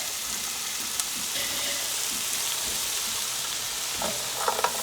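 Frozen shrimp sizzle and fry in a pan with garlic and butter, a constant close crackling hiss broken by occasional scraping stirs and soft clinks, with no voices.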